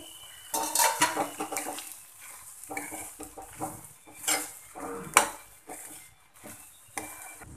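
Sweet corn chevdo being stirred in a pan over a low gas flame, with the spoon clinking and scraping against the metal in uneven bursts along with a faint sizzle, close up and fairly quiet.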